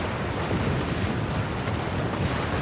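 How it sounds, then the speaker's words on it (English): Starship torpedoes fired and detonating in Star Trek Online, a dense, continuous roar of blasts and rumbling booms filling the whole stretch with no pause. "Fire the torpedoes."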